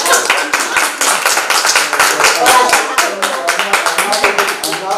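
Dense, close clapping from the audience at a Hudson city police committee meeting runs loud and unbroken throughout, with sharp individual hand strikes standing out in the wash.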